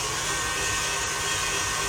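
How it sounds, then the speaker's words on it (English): An electric stand mixer whips at a higher speed, giving a steady, even whirring drone with no break and no voices. "I'm going to turn my mixer up one more beat."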